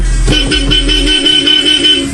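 A car horn in the video game Mafia: Definitive Edition sounds loudly, close up, with a rhythmic pulsing tone over engine rumble, continuing for a couple of seconds.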